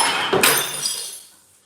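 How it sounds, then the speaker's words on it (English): A drinking glass breaks on a home kitchen floor, one sharp crash with a bright tinkling scatter of shards that fades out over about a second. "I just break the glass."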